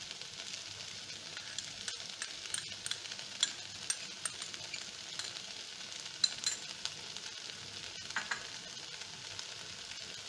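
Chilli beef with tomato sauce sizzling steadily in a pan over a lowered flame, a dense continuous crackle with scattered sharper pops and no talking.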